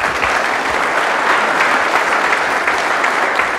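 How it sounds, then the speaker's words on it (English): A conference audience breaks into loud, sustained applause to welcome engineer Michaell Schratt as he takes the stage, a close, dense crackle of many hands clapping at an even level throughout, with no talking over it. "give a big round of applause for Michaell Schratt"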